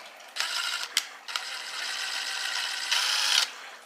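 A ratchet tightening a bolt on an Echo GT-225 string trimmer carburetor, heard as close, bursty clicking and grinding strokes with short pauses between them and a sharp tap early on.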